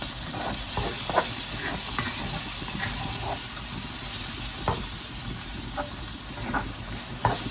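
Flour cooks in chicken grease in a pan for smothered chicken, giving a steady close sizzle and hiss. Occasional soft scrapes and taps come from stirring.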